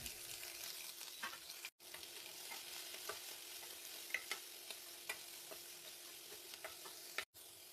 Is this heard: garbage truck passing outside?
no